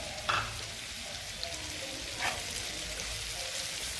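Finely chopped green chillies and whole spices sauté in a pan for a dhaba-style paneer butter masala, giving a continuous soft sizzle with a couple of brief stirring scrapes and no talk.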